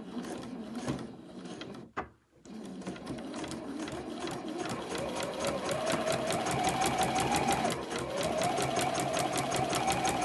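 Sewing machine back-stitching bag lining fabric, a steady rapid mechanical whirr that runs continuously and close, briefly pausing near the start before resuming at an even pace.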